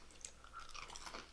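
Close, quiet crunching bites on cornstarch-coated tofu, several crisp chews in quick succession with no talk.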